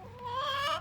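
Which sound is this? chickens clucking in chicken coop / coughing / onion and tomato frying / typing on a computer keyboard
chickens clucking in chicken coop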